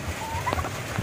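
A few short gobbling calls from sick turkeys in rainy weather, fairly faint against a dull background, with one clearer gobble in the middle.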